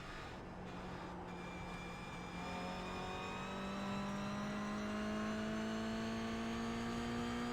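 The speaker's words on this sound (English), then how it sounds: "Okay, Dwayne, there's a faster car approaching." Engine of a racing car in a racing video game, a steady tonal drone whose harmonics climb slowly as it accelerates, moderately loud and continuous with no talk.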